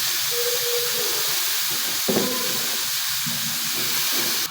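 Radish greens added to chili and onion already frying in a pan give a steady close hiss of steam and sizzle, with a brief clatter partway through and no talking.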